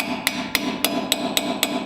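Hammer tapping a ball joint loose on a Chevy Silverado/GMC Sierra truck front end: six sharp metallic strikes at a steady rhythm, close and loud, with no talking.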